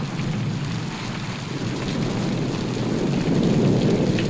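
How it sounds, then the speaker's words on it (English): Steady heavy rain pouring down with deep rumbling thunder throughout, a dense continuous wash of sound that swells slightly toward the end. "I think the storm's about over."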